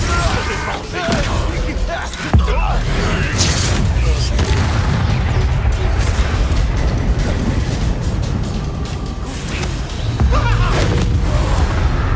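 Spell effects from the video game Hogwarts Legacy, fire and shield casts, heard as loud booming blasts and crashes over a dense, continuous game soundscape, with a sharp impact early on and another near the end.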